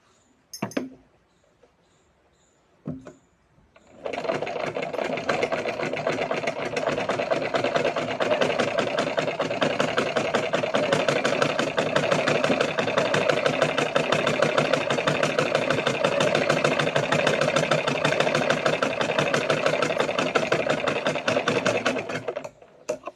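A sewing machine stitches a new bag from old cloth, starting after a few quiet seconds and then running in a steady, fast, continuous whir for nearly twenty seconds, close and fairly loud, with no talk over it.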